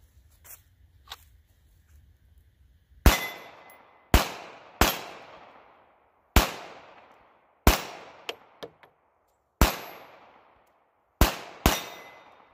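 Pistol shots in .380 strike a portable steel gong target, each sharp crack followed by a ringing metallic decay; about nine impacts at irregular intervals after a quiet start, loud and close.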